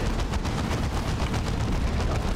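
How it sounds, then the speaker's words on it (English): Grenade launcher fire and blasts striking buildings in the Warhammer 40K game Dawn of War 2, a dense, continuous roar of rapid booming impacts with no pauses and no voices. "Can Cyrus effectively clear buildings with a grenade launcher?"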